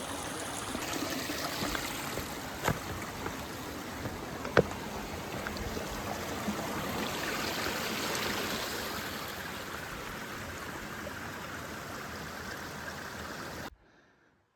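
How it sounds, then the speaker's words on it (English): Creek water flows and splashes steadily while a hiker crosses a creek on a long trail, a continuous near rushing babble with a couple of sharper knocks, cutting off abruptly at the end. "All right, crossing the creek."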